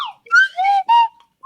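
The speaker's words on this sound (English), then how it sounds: "and now the slide whistle symphony" A slide whistle plays a few quick gliding notes, swooping up and down in short bursts with brief pauses between them, loud and close.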